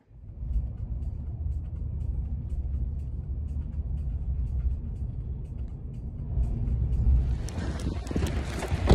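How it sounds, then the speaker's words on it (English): Street traffic passing nearby, a steady low rumble of cars with wind buffeting the microphone, swelling louder toward the end as a vehicle goes by close. "Oh, it's traffic."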